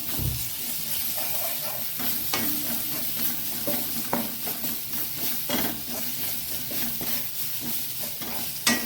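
Prawns with a pinch of salt dry-roast over a low flame in a pan, a soft continuous sizzle and hiss broken by frequent scraping stirs of a spoon, close and steady with no talking.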